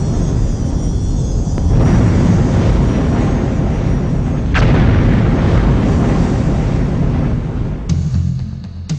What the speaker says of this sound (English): Magnificent mountains explode as a result of the volcanic pressure beneath them.